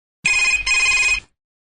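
A telephone rings for a radio call-in farm advice show, one loud, close electronic ring split into two quick bursts with a brief gap, then stops cleanly into silence.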